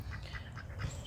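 Blue Swedish ducks in a backyard flock give a few short, faint quacks in quick succession against quiet background noise.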